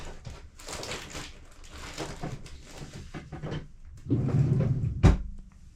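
A wooden drawer or cupboard opens with a short rumbling slide and then a single sharp knock near the end, heard up close after a stretch of someone talking about fly tying materials.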